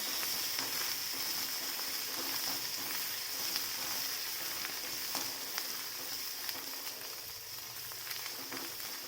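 A leafy dill (shepu) vegetable dish with chilli thecha roasts in oil in a pan, giving a steady, even hiss and sizzle with small crackles throughout.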